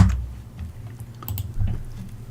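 A few soft, scattered clicks come from typing on a computer keyboard, close and quiet over a low background rumble.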